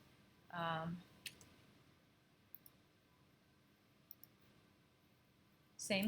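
Computer mouse clicks from selecting and grouping shapes in graphics software come as a few sharp, faint, isolated clicks spread over several seconds in a quiet room, with a short burst of voice near the start.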